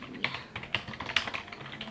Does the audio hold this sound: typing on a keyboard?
yes